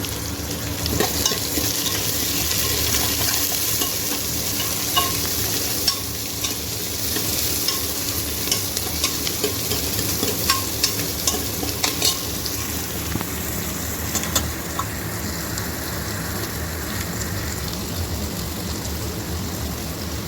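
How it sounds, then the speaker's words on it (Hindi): Tadka spices sizzle and fry steadily in a hot pan for a long stretch, with occasional clinks and scrapes of stirring over the constant crackle. "तो भाई ये एक बार इस तड़का लगा दिया है मैंने।"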